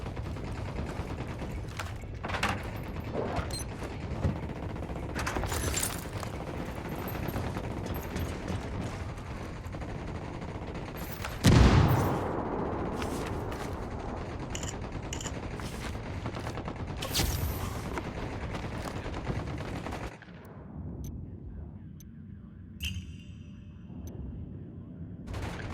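Sustained gunfire in Ghost Recon Wildlands, dense overlapping automatic bursts and shots with a louder blast near the middle, continuous for most of the stretch before tapering to quieter scattered shots.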